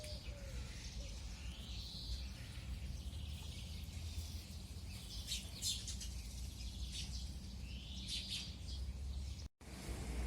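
Sparrows on an early morning outdoors flutter their wings and give faint chirps in scattered bursts, soft and somewhat distant over steady low background noise.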